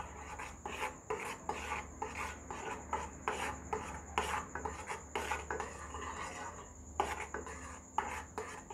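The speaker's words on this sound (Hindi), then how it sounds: "डाल के इसको चलाते जाएंगे, रुकेंगे नहीं, क्योंकि जहाँ इसको हमने रोक दिया तो ये जमना चालू हो जाएगा।" A spoon stirring tikhur (arrowroot) into boiling milk in a metal pot while making kheer, giving steady rhythmic scraping strokes against the pan, close and moderately loud, with no talking.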